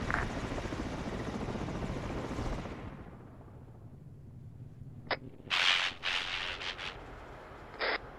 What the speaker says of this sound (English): We've got a fucking attack helo circling airdrop zone.